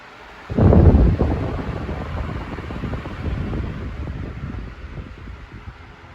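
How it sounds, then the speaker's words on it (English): A Klarstein/Pelonis Silent Storm BLDC pedestal fan ramps up to speed 26, a soft background hum swelling into a steady, close, rushing whoosh of airflow. "We'll go right back up to speed 26."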